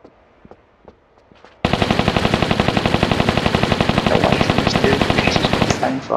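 Rapid automatic gunfire from the pistols in Tomb Raider 3, Meteorite Cavern level, bursting in loud and sustained after a quiet stretch of faint clicks, a steady fast rattle of shots that runs for several seconds and then cuts off.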